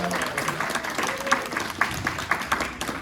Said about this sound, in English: A round of applause for my lovely assistant, Debbie Dawson, everyone.